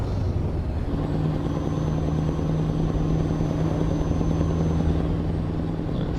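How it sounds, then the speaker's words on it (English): A V8 truck engine from a sound mod in the Euro Truck Simulator 2 game drones steadily and loudly with a deep, even rumble and a faint high whine throughout. "It's a V8 sound mod for this truck."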